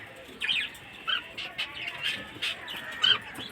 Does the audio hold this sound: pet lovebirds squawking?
yes